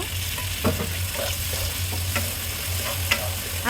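Shrimp fry in a hot pan with spices and salt, a continuous close sizzle broken by irregular scraping and clinking as they are stirred, with no voices.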